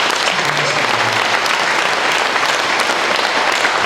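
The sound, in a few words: applause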